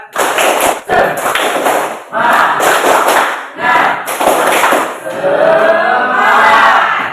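A classroom group performs a tepuk semangat rhythmic clap, loud bursts of patterned clapping in several short rounds separated by brief pauses, with a crowd-like wash of hands and voices.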